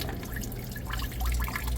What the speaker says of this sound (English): water is coming down, right?